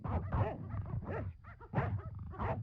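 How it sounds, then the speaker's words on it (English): Dogs in the Broken Sword video game let out a run of yips and whimpering barks in quick bursts, fairly close and loud, with short gaps between the calls. "Die Hunde."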